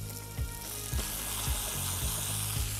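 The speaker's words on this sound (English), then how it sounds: "Just sear the top of that fat." Pork skin sears fat-side down in a hot pan with a close, continuous sizzle and a few soft pops.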